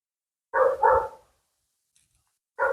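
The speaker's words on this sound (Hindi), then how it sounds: "तो कुत्तों की भौंकने की आपको आवाज़ आ रही होगी" Dogs barking at a dog-breeding farm in a green valley in Brianza, Italy: two quick loud barks close together, then silence and another bark starting at the end, with no talk.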